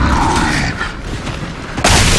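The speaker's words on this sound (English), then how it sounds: "Throwing grenades." A heavy grenade blast booms loudly in a shooter game, a dense low rumble that surges again sharply just before the end.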